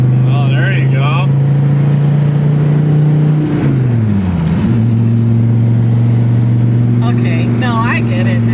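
A 2014 Dodge Viper engine drones in a steady low note from inside the car while driving, dips and climbs through a gear change midway, then holds again, with people talking over it at the start and end.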